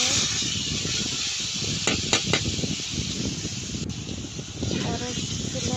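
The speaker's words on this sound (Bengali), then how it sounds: "এখন এদিকে আমি গুঁড়ো মাছগুলো ভেজে নিচ্ছি।" Small fish frying in hot mustard oil in a pan, a steady loud crackling hiss throughout with a few sharp clicks midway, close and continuous.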